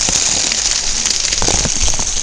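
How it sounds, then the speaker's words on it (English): Heavy rain from Tropical Storm Fay pours down hard and steadily, a loud dense hiss of water hitting surfaces close by, with no voices. "It's coming down even harder now. As you can see, it's huge amounts of rain."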